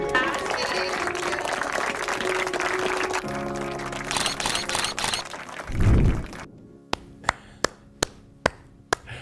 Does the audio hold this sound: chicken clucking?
no